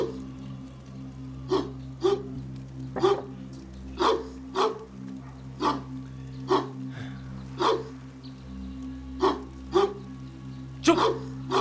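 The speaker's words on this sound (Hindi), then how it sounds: "तुझे भी यही वक्त मिला था भौंकने का।" A dog barks repeatedly in single, evenly spaced barks, loud and close, over a steady low background hum.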